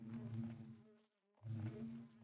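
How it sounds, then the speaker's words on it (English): A low, steady buzz of bees in the Minecraft video game, dropping to near silence for a moment before the droning swells back up, soft and continuous with no talk. "We've got bees."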